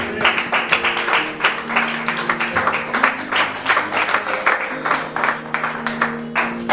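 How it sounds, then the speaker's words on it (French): A church congregation claps and cheers in praise of the Lord, a steady, dense run of applause with some raised voices and sustained tones underneath, continuous throughout. "On acclame le Seigneur très fort."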